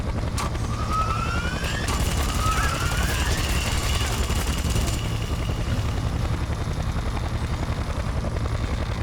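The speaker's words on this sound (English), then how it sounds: "I'm taking fire from that chopper." A helicopter in the Splinter Cell Conviction video game fills the scene with a steady, loud rotor roar, joined by a brief high whine and some faint gunfire.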